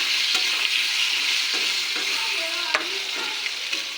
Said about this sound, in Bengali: আলুটাকে একটু নেড়াচাড়া করে নিলাম